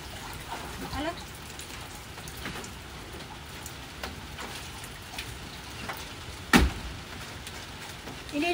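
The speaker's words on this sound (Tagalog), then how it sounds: "Umuulan." Steady rain patters on surfaces outdoors near a swimming pool, a constant wash of drops with one sharper knock partway through, while a person speaks faintly in the background.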